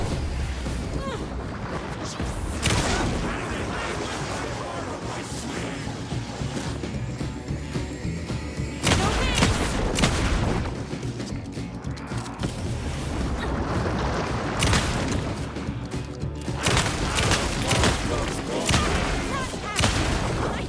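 Gunfire in the video game Alan Wake II, Night Springs episode, comes as loud, close bursts of shots recurring every few seconds over a dense, creaking, mechanical game soundscape that never drops to silence.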